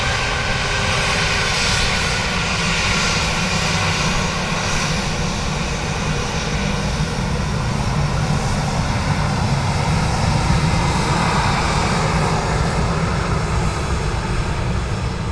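Aircraft engine roaring steadily at Dublin Airport beside the runway, a loud continuous drone that holds for the whole stretch with no talk over it.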